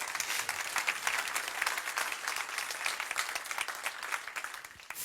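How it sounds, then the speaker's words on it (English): An audience breaks into sustained applause, a dense, even wash of many hands clapping that holds steady at moderate loudness across the whole stretch without any talk. "Give him a round of applause."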